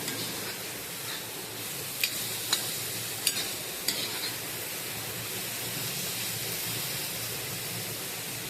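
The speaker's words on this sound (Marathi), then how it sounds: "आपण थोडंसं त्याच्यामध्ये मीठ टाकूया चांगलं परतून घेऊया" Onion sautés with salt in a pan, a soft continuous frying hiss with a few light taps of a spatula against the pan, fairly quiet and close with no talk.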